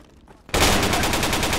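Automatic gunfire in the Project Reality video game erupts after a quiet half second, a loud sustained burst of rapid repeated shots that continues to the end.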